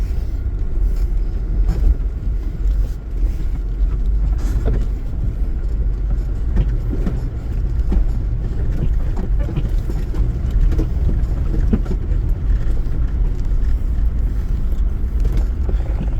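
A vehicle pushes across a fast-flowing creek during the Billy Creek crossing on the Bluff Hut to Zeka Spur track, with a steady loud rush of water and engine rumble continuing throughout, no talk.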